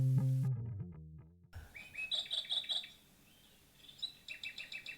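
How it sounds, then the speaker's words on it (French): Small birds chirp in quick, bright bursts, a run of repeated calls midway and another cluster near the end, fairly close and clear, following a brief musical passage at the start. "sur ces petits bruits d'oiseaux"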